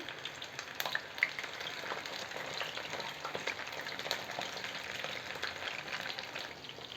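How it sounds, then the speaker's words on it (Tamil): Mushroom and cabbage mixture frying in hot oil, a steady dense sizzle with crackling pops throughout, close and even in level, no voices. "இந்த காளான் கலவையை இப்படி குட்டி குட்டியாக போட்டு நம்ம பொரிச்சு எடுத்துக்கலாம்"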